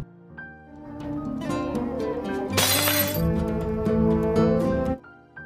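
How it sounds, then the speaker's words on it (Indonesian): A mirror is thrown and shatters in one loud, bright burst of breaking glass midway, set over continuous dramatic background music with tinkling fragments trailing off. "Ia lalu melemparkan cermin itu."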